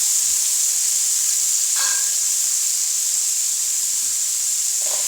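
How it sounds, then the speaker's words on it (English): Carrots and onions saute in a pan for coq au vin, giving a steady close hiss with a few faint stirring scrapes and no talking. "and some onions, and we'll just saute those for a couple minutes"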